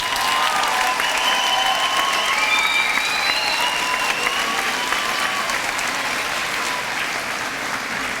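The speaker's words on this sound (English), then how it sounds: "A round of applause for Ms. Grimley's homeroom." Audience applause for a homeroom class at a Frost Middle School promotion ceremony, a dense sustained wash of clapping from a crowd, loud and steady, slowly easing off near the end.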